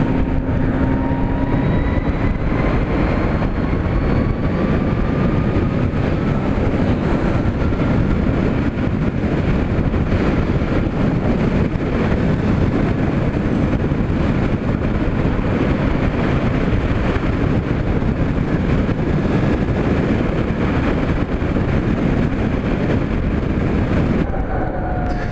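A Harley-Davidson LiveWire electric motorcycle is ridden, heard as steady loud wind roar and road rush with a faint rising and falling electric whine, continuous throughout and with no talk.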